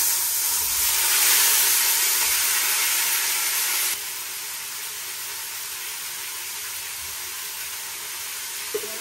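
Spices, black cumin, dried and green chilies, pumpkin and salt sizzling in hot oil, giving a loud, steady, close hiss that drops to a quieter sizzle about halfway through.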